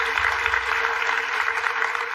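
A studio audience on a daytime talk show claps steadily, a dense, even wash of applause lasting a couple of seconds with no voices over it.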